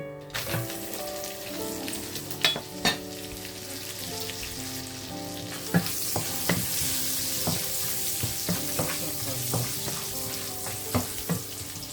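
Cashews frying in hot oil in a pan for millet chicken biryani, a steady close sizzle with spoon clinks and scraping taps against the pan scattered throughout, no talking.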